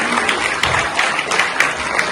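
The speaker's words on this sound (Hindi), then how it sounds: "तो जोरदार तालियों से स्वागत करेंगे हमारे सारे अतिथियों" Loud, steady applause from an audience welcoming guests onto the stage at a children's festival at Gandhi Bhawan, with many hands clapping continuously and small bursts of louder claps throughout.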